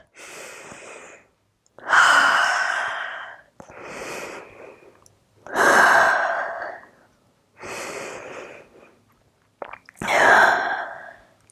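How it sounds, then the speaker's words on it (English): Deep, slow yoga breaths during a held downward dog pose come as six separate inhales and exhales, loud and close, each a breathy rush separated by short pauses. "One more deep breath."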